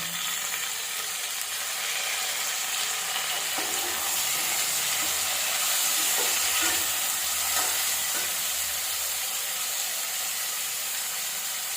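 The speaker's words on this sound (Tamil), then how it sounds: "தக்காளி வதங்கிறது கொஞ்சமாக உப்பு போட்டுக்கலாம்" Tomatoes and onions sautéing in a pan for kathirikai kara kuzhambu give a steady close sizzle with soft stirring scrapes, with no talk.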